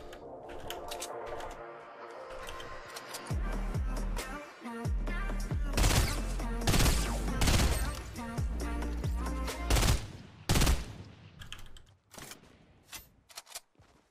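FAMAS rifle bursts in the Fortnite Battle Royale video game: rapid, loud volleys of automatic gunfire in repeated bursts over a busy game soundtrack, with a short pause before a final scattered flurry.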